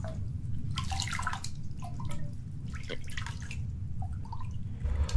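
Water drips steadily in the horror video game Silent Still, a run of small, irregular plinks over a low rumbling background hum, with no voices.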